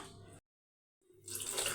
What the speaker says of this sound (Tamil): இப்போ இன்னும் கொஞ்சம் கூட தண்ணி ஊற்றிக்கலாம்